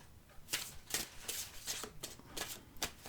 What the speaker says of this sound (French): Je le remélange une fois.